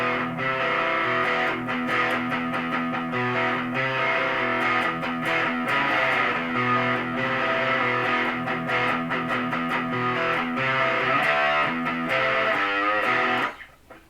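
Distorted electric guitar played continuously, with sustained chords and quick picked notes over a steady, driving rhythm, loud and close, stopping abruptly near the end.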